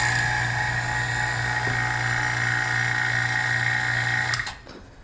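A shock bleeder vacuum pump runs on a 2024 Yamaha YZ450F shock, a steady close mechanical whine and hum that holds evenly, then cuts off and winds down near the end.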